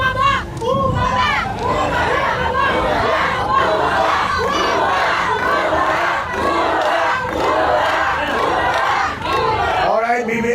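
A large protest crowd shouts in unison for President BBM to step down, a dense, loud wall of overlapping voices and rhythmic chanting that carries without pause.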